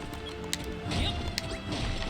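Ceiling blocks being smashed in the video game Dragon Quest Builders 2, heard as a few sharp crunching impacts over a dense, steady game soundscape.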